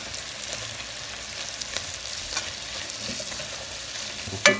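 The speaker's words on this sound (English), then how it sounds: "Now we're going to put the garlic and the onions and the tomato mixture back in there." Garlic, onions and tomato mixture frying in butter for butter chicken, an even crackling sizzle throughout with a sharp utensil knock at the very end.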